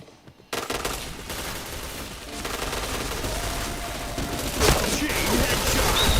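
Rapid bursts of gunfire in a first-person shooter video game, with dense automatic fire starting abruptly after a brief quiet moment and continuing loud throughout, along with a sharper shot near the end.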